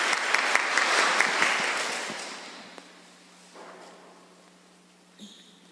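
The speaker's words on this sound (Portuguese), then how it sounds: "Uma salva de palmas ao Padre Valdecir ter acolhido o nosso convite." A church congregation at a Catholic Mass applauds a visiting priest, a burst of clapping that thins and fades within a few seconds, leaving a quiet room with faint stray sounds.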